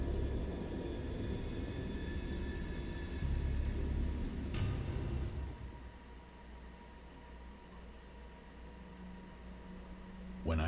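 A storm of heavy, steady rain hisses with a low rumble of thunder rolling underneath. The downpour eases partway through, leaving a quieter wash of rain and a fresh swell at the end.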